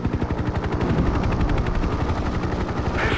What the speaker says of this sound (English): Heavy ground fire.